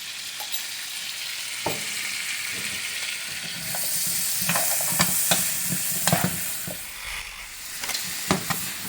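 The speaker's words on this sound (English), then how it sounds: "I'm going to take my pot roast vegetables, throw them right in there just for a quick saute" Pot roast vegetables and garlic sauté in a hot pan, a bright constant sizzle with scraping stirs and utensil knocks scattered throughout, close up with no talking.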